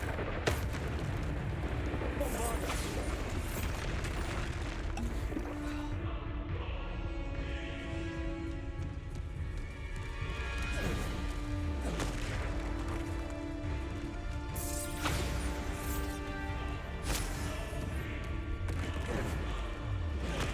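Bombarda spell explosions in Hogwarts Legacy, a run of booming blasts and bursts spaced through a long combat sequence, mixed with music and a voice calling out spell names.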